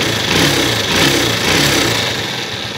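A motorcycle engine runs close by at a steady, fairly loud idle after carburetor tuning at home, a low throbbing rumble with slight rises and falls in pitch.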